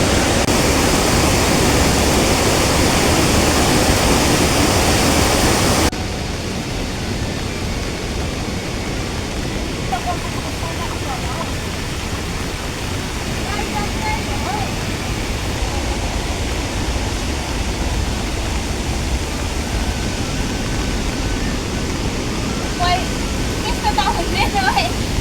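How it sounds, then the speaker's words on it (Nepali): A large river in rural Nepal roars loudly and continuously, a dense wall of rushing water that drops somewhat in level after a few seconds yet stays steady, with faint scattered higher sounds on top. "खोला कराकोले ठुलो खोलाको आवाज आइरहेछ"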